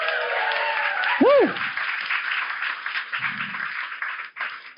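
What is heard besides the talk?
audience applause and cheering at a live show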